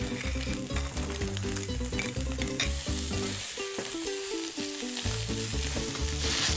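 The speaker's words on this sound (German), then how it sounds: "wenn ihr euer Hack so schön krümelig angebraten habt und das ein bisschen braun ist, dann gebt ihr die kleinen gehackten, gewürfelten Zwiebeln dazu" Diced onions fry with crumbly browned ground meat in a pan for mini cheeseburgers, a loud continuous sizzle with repeated scraping stirs over background music.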